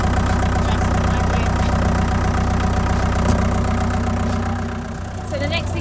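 Boat engine idling aboard the narrowboat Kingfisher, a steady low rumble running continuously at close range, dipping slightly near the end, with a voice talking over it.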